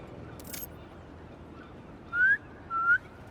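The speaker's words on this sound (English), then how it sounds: "Try a whistle." A whistle blown in the Spider-Man 2 video game, two short clear rising chirps back to back over a quiet ambient hum.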